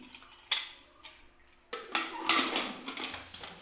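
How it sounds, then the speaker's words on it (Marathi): Quiet metallic clinks and clanks as a pressure cooker lid is set in place and closed over stuffed eggplant, with a sharper burst of rattling near the end. "आता कुकरचं झाकण लावून घेते मी"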